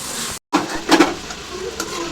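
Food frying in hot oil until crispy and golden brown, a close, continuous sizzle with a brief dropout and a few louder crackling bursts, no talking.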